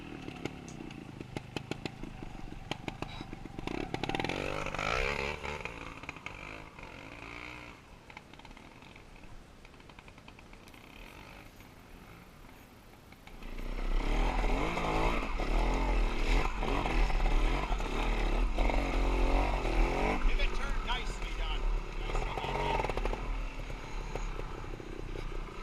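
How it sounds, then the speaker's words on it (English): A trials motorcycle climbs a steep rocky hill at a trials park, its engine revving in bursts, fading back, then roaring louder and sustained as it powers up the slope in the distance. "Spots like this require you to weight your suspension, grab a handful of the throttle for power and acceleration"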